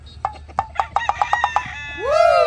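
Chickens cluck in a quick series of close, sharp calls, then a rooster breaks into a loud, drawn-out crow at the end, in a village backyard setting.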